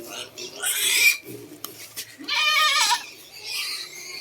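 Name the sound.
goat bleating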